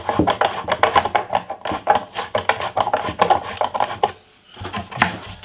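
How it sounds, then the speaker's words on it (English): Metal screwdriver turning slotted bolts on a wooden guitar-building jig, giving a dense run of close scraping, grinding clicks and rubs for about four seconds, a short pause, then another brief burst. "I cut slots in the end of these bolts so I can use a screwdriver to tighten them up"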